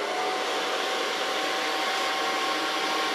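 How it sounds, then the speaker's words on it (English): A hair dryer blows steadily and loudly while hair is styled with a large round brush, a continuous even whoosh with no pauses and no talking. "start blow drying with a large brush."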